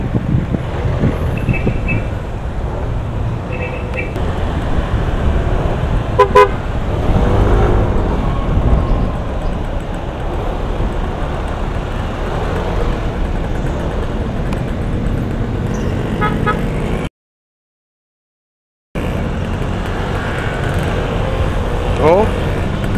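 Traffic on a main road in Tanawan, Batangas, with cars, trucks and buses rumbling past in a steady close wash, brief higher tones like horns or brakes breaking through, a short dropout near the end, and voices talking over it.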